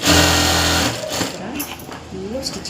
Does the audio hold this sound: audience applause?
no